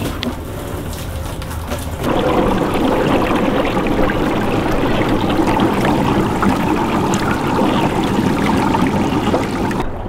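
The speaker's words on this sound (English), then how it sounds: "we are gonna fill it up with some pond water and test this thing out." Pond water gushes steadily into a compost tea brewer barrel, a dense broadband rush that jumps louder about two seconds in and then pours on without a break, close and loud with no talking.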